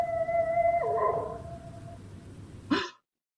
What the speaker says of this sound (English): It's the dog again. That confounded dog is tied up around here somewhere.